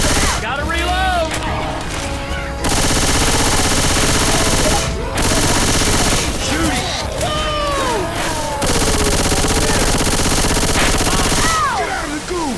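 Dense automatic gunfire rattles almost nonstop at the Tank in the Left 4 Dead 2 Dark Carnival campaign, loud and close, with brief pauses, game effects and players talking over it.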